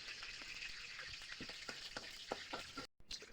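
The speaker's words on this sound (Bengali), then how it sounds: "তেজপাতা, দারচিনি, এলাচি দিয়ে কিছুক্ষণ ভেজে নিতে হবে" Bay leaf, cinnamon and cardamom fry in hot oil with a soft, continuous sizzle and scattered crackles and pops, heard close but quiet.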